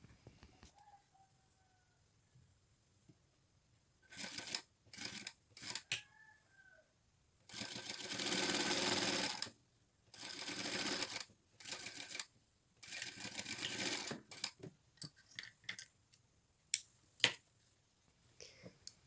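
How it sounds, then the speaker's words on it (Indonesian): A sewing machine stitches a shirt cuff placket from the corner of a triangular fold down to the hem, running in several separate bursts of steady mechanical whirring with short quiet pauses and small handling clicks between them. "Lalu kita jahit mulai dari titik sudut cekris segitiga sampai ke"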